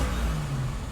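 A 1974 Volvo 164 engine revs up close with a steady low-pitched rumble and a rising throaty drone, loud and continuous for under a second, with no voices.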